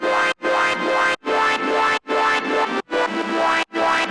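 Unprocessed Massive synth preset Wind Her Up, a loud buzzy sustained tone in chopped bursts with rising sweeps and brief silent breaks, no voices.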